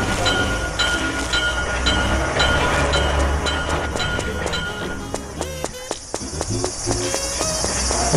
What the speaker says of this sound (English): So in about an hour, there'll be another train coming.